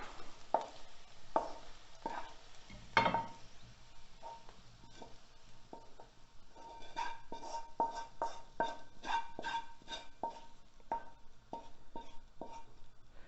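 Rice cooking in a lot of oil in a pan, steady faint sizzling under a series of sharp utensil clicks and scrapes against the pan, some in quick runs, with no talking.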